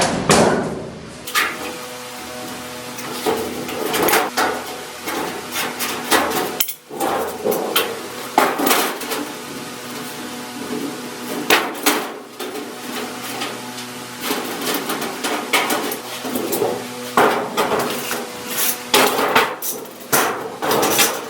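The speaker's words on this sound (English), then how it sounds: "We have to bend us some drive tabs on these guys right here. So take my bar fold, use a 1/2 inch on this one here." Sheet metal drive tabs are bent in a bar folder for a furnace plenum transition, with repeated loud metallic clanks, bangs and rattles of the folder and metal, dense and irregular throughout.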